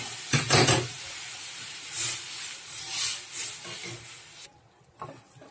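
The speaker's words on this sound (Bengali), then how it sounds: "এই যে ডালটা ফোড়নটা ভেজে নিয়েছি, এবার ডালটা ঢেলে দিচ্ছি।" Boiled mung dal, cooked with turmeric, poured into a pan of fried ginger tempering, giving a loud burst of sizzling at the start, then several softer waves of hissing and spattering that fade toward the end.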